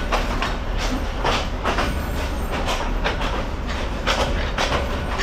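A train rolls and sways along the rails of a rural Bangladeshi branch line, its carriages giving a steady rumbling clatter with repeated rhythmic clicks of the wheels over the joints, loud and close throughout with no talk.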